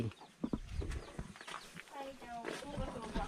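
Chickens cluck and call close by in a rural village setting, short irregular bursts mixed with a person talking and some background bird noise.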